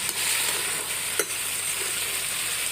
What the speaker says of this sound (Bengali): এটা হচ্ছে গোশ রান্না করতেছি গ্যাসে